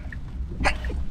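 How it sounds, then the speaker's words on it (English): A single short, sharp sneeze bursts out over quiet background hum. "a sneeze is coming."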